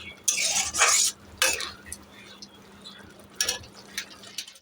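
Chicken being sautéed and stirred in a pan, cooked with green chillies for a home-style chicken bhorta: a few loud scraping bursts of a utensil against the pan, then quieter clinks and soft sizzling with pauses in between.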